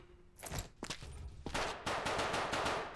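Pistol shots ring out in the zombie border-patrol game Quarantine Zone, several sharp bursts in quick succession that build into a dense rapid volley.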